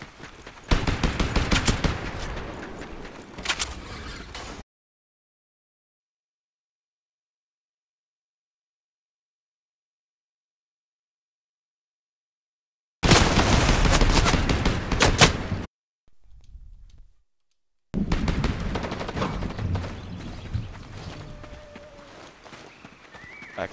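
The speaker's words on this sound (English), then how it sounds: "Somebody shooting. It's two people." Loud bursts of video-game gunfire come in separate stretches split by dead silence, mixed with clip-clopping hooves.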